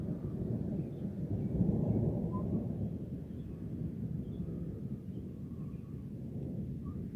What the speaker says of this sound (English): Massive thunder to go with.